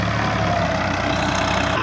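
A 480 model tractor idling on a farm plot, a close, steady low engine rumble with an even throb that runs unbroken, no talk.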